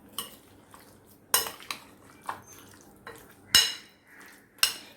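A spoon clinks and scrapes against a bowl as mutton is mixed with marinade and squeezed lemon, several sharp metallic taps spaced irregularly over a quiet background.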